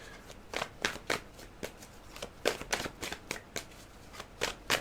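Tarot cards being shuffled and drawn, a quick run of crisp riffling flutters and soft slaps repeating in bursts, close and fairly quiet.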